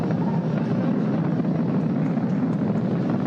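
Falcon 9 rocket engines during ascent, throttled down for the passage through maximum dynamic pressure, give a steady, dense, broadband roar that holds even and constant throughout, with no voices.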